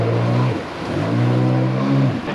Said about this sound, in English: And then when I hit the gas, it's going to bring my nose straight up.